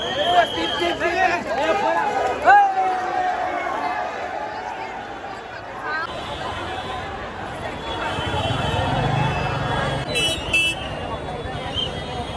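Dense festival crowd at a Ganpati pandal, a continuous hubbub of many voices with occasional vehicle horns toots in the background and nearby talk layered over the babble.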